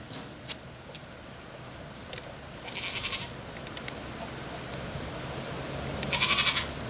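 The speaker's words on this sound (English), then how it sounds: "Beautiful looking goats." Goats on a South Texas homestead give two short bleats a few seconds apart, moderately distant, over a steady outdoor background with faint ticking.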